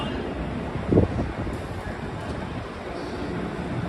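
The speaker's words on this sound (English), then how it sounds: "it seems like the wind is now picking up again in New York" Steady broadband wind rumble buffets the microphone throughout on a Midtown Manhattan street at night, at 57th Street and 6th Avenue, with one brief louder gust near the start.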